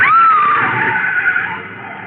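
A car skids loudly in a 1940s radio detective drama, a sustained high tire screech that holds steady and then slowly fades, close and alone with no voices.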